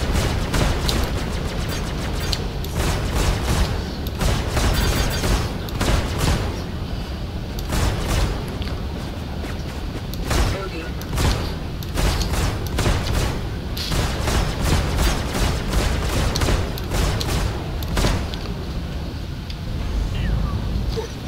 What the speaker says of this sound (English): Don't shoot all your missiles at once like that.